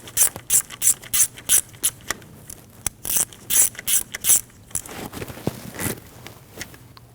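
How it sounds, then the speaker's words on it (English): A hand ratchet clicks in quick, loud bursts while tightening the bolt on the intake variable valve timing solenoid of a 2013-2019 Ford Escape 1.5L, then the strokes shorten and soften toward the end. "You can take your new valve, slide it into the block, and push, and install your bolt. Tighten your bolt down."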